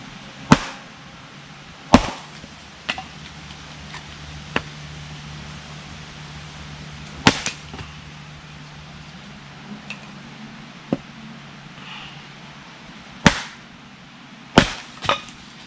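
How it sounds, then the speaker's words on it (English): Hatchet from Mora Knife splitting kindling at a woodland camp: sharp, isolated chops land at irregular intervals, around nine strikes with quiet rustling gaps between them, close and clear over a faint background hiss. "It's a Mora knife hatchet."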